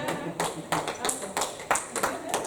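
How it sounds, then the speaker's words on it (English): A church congregation claps in uneven bursts, a few loud sharp claps standing out over a scattered crowd, with some voices mixed in. "Please clap for him."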